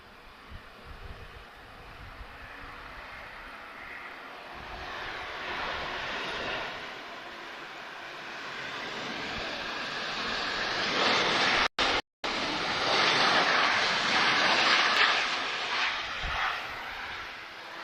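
A Ryanair airliner roars loud and close at Lisbon Airport, a broad sustained jet rumble that swells and holds for the whole stretch, with one brief dropout partway through.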